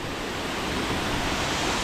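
A river below a waterfall in Laos on the Bolaven Plateau loop gives a dense, steady roar of rushing water, loud and close, with no break.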